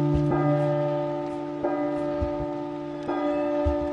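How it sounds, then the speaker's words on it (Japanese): Inside the horror game P.T., a resonant bell tolls three times at an even pace, each strike ringing out clearly with a long, sustained hum between hits. "この鐘が鳴るとなんか声が聞こえたりする"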